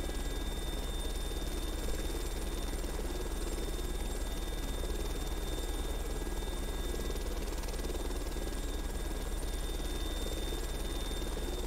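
Sud-Ouest 1221 Djinn helicopter in a flight simulator game, a steady, loud rotor and turbine drone with a continuous low throb that holds unbroken throughout, no talk over it.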